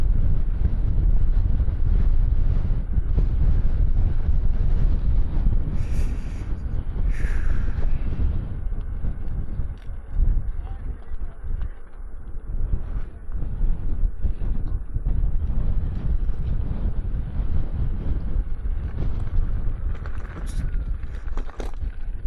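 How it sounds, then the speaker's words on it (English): Strong wind buffets the microphone for over twenty seconds outdoors, a loud, continuous roaring rumble with gusting surges and dips. "What a strong wind."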